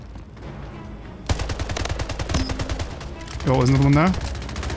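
Bursts of rapid automatic assault rifle fire in a free first-person shooter game, sharp repeated cracks in a fast steady rhythm with a brief pause, while someone talks over the shooting.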